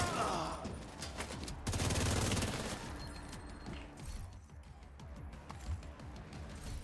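Gunfire in a video game where two players are shooting, with rapid bursts and scattered shots at moderate to low volume and several sharp cracks standing out against the background.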